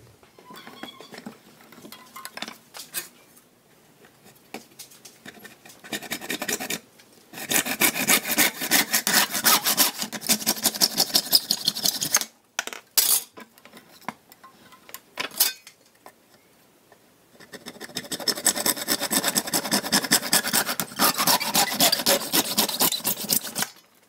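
A hand saw cuts through PVC pipe pieces in bursts of fast, rasping back-and-forth strokes, close and fairly loud, separated by short pauses.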